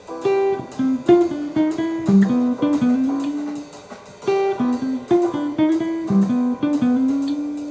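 A jazz guitar plays a long chromatic line as a run of clear, rhythmic picked notes, close and alone.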